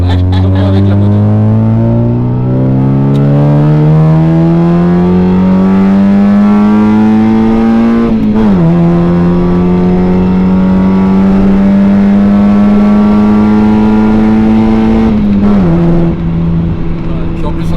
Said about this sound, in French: ça ronronne parce qu'on l'a tout modifié